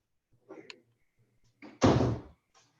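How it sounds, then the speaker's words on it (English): An indoor door is shut with one loud, close thud that fades quickly, preceded by faint shuffling and a brief voice. "I'm gonna shut this door."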